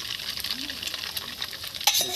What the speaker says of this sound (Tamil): முட்டையை ஊற்றி கிண்டப்படுகிறது.